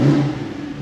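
A Porsche 911 991.2 GTS with its exhaust valve open gives a close, loud engine roar that revs up briefly and then settles into a rumbling drone.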